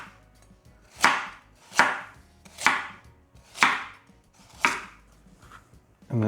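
A knife roughly chops a medium-sized carrot on a board, five sharp, evenly spaced cuts about a second apart, close and distinct with quiet gaps between them.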